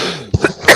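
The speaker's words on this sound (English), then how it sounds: "I'm coughing." A few short coughs from a podcast host during a live NASCAR podcast, two or three abrupt bursts close to the mic over faint background noise, with no talk.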